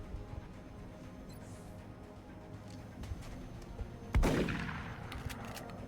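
A single shotgun blast in the XCOM Long War strategy game lands as one sharp, loud burst with a trailing decay, set against a low steady background hum.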